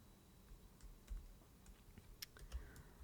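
Quiet typing on a computer keyboard, a short run of light, irregular key clicks with a couple of firmer taps, close and without speech.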